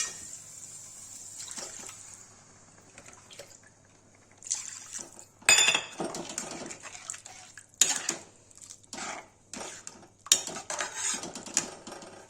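Water poured into a simmering onion-tomato puree for egg curry in a home kitchen pan, with splashy pouring bursts and clinks of utensils, moderately close, no talking.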